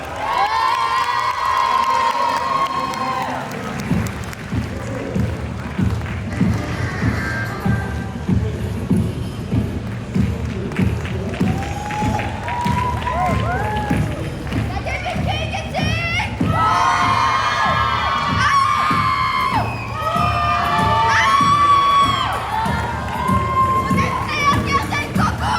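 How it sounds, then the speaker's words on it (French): A convention crowd at a cosplay contest cheers and shouts with high excited voices, including children, loud and continuous throughout, with some clapping mixed in. "qu'on peut applaudir bien fort"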